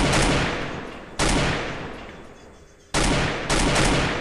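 Loud gunfire from the 2017 version of the battle-royale game Free Fire, dense bursts of shots that restart abruptly several times, filling the clip without talk.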